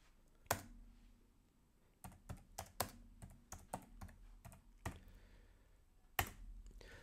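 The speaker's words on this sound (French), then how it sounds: "Si maintenant je tape quelque chose de" Typing on a computer keyboard: a sparse run of distinct, close keystroke clicks with irregular spacing and a few louder taps, heard alone against a quiet background.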